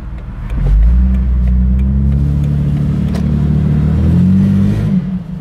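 A Jeep Wrangler TJ 4.0 engine rumbles deeply and loudly up close, revving up and holding a throaty drone before easing off, with no voices.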